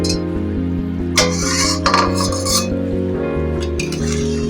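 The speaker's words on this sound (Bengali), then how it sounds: "আমি ঢাকাটা ছুলে একবার দেখে নেবো বা নেড়ে দেবো" A pot lid clinks and a spoon scrapes while bamboo shoot and meat curry is stirred, a few metallic clatters over steady background music.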